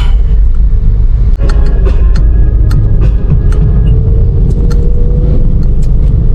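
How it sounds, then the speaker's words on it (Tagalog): Heavy afternoon road traffic on Santo Tomas Road, a dense, continuous rumble of cars and buses with engines droning close by and occasional sharper passing noises, no voices. "sobrang traffic dito sa Mekan Lalay"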